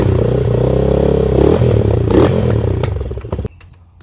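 Yamaha Raptor 250 ATV engine with a failing clutch, running loud and steady with a strained, clattering tone, then cutting out abruptly near the end.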